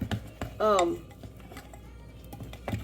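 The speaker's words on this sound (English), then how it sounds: "I'm going to stir that 1 egg in with my sugar" A utensil clinks and taps against a bowl while an egg is stirred into sugar and butter-flavor Crisco, sharp close knocks spaced irregularly, with a short voiced sound partway through.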